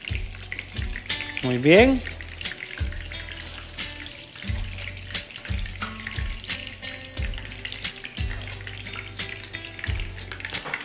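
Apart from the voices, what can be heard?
double-breaded sausages frying in hot oil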